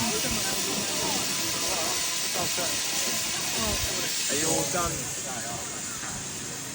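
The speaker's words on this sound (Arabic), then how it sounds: "شايفين الضغط هنا زاد ازاي؟ صوته عالي يعني. ضغط البخار زاد" Loud, steady hiss of built-up steam pressure venting from a coal-fired steam locomotive, a continuous close roar that never lets up, with faint voices and mechanical sounds beneath it.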